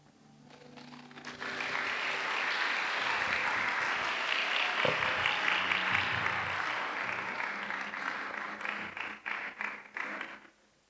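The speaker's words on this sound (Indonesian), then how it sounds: "Sekali lagi kita berikan tepukan." An audience at an SIB church youth conference session in Kemabong claps. The applause swells quickly into a dense, sustained round of many hands, holds steady for several seconds, then thins into scattered claps before stopping.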